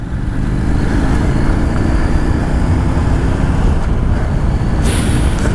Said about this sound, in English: The exhaust is very nice.